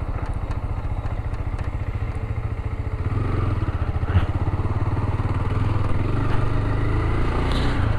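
A Dafra Next 300 motorcycle engine pulls from low revs at about 25 km/h and accelerates, its throbbing exhaust growing louder and steadier, with faint rattles over the continuous drone.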